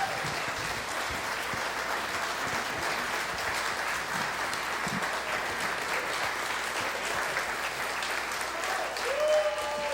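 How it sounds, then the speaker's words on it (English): Sustained applause from a sizable crowd at a hall of fame induction ceremony, steady clapping throughout with a few faint cheers mixed in. "Let's get one more awesome round of applause for our inductees"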